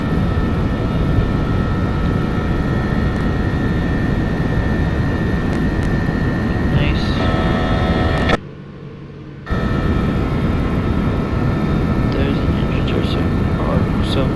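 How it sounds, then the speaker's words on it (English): Loud, steady roar of Lufthansa Airbus A321 jet engines in a flight simulator game, with a constant whine, briefly cutting out for a second before resuming. "the engine sounds are really good"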